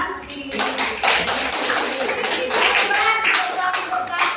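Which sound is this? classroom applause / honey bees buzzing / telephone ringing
classroom applause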